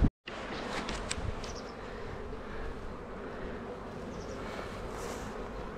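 A colony of honeybees drones on during a deep hive inspection, a steady close buzz after a brief cut at the start, with individual bees zipping past now and then.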